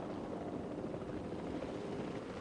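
A helicopter in the video game Jurassic World Evolution 2 gives off a steady, continuous rotor and engine drone, dense and unchanging at moderate level throughout.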